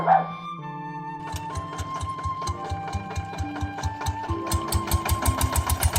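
A power tiller, the small walking tractor called an iron ox, chugs steadily while plowing a rice field, its engine putting out a quick, even mechanical beat that grows slightly louder over several seconds, with no voices.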